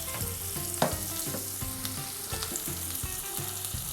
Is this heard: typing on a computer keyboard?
no